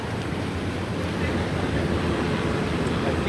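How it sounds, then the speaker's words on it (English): Ocean waves wash over the tide pools at La Jolla, California, a continuous heavy surf roar with wind buffeting the microphone and no clear talk. "These waves are getting higher and higher."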